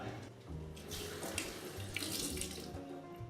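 Water pours steadily into a jar of preserved lemons, a faint, continuous splashing gush close by, with no talk.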